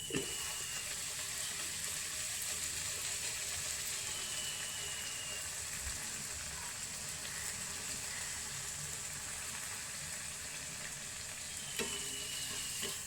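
Puri fry in hot oil for breakfast, a constant bright hissing sizzle up close, with faint knocks at the start and near the end.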